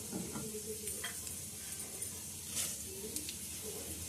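Chana dal and coriander seeds fry in hot oil with cumin and fenugreek, a soft, steady sizzle with occasional stirring scrapes, fairly quiet and close.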